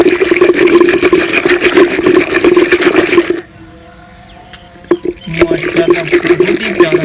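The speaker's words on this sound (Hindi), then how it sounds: "अच्छी तरह दूध को मिक्स कर लेंगे।" Milk being mixed for a mango milkshake, a loud continuous churning, sloshing whir that cuts off abruptly, leaving a brief near-silent pause before it starts up again.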